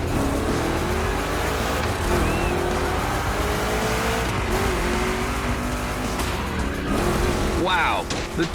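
Chevy big block V8 engines roar through a gymkhana race in The Crew Motorfest, a loud continuous drone with revving, tyre squeal and a car passing near the end, while a voice talks over the engine noise throughout.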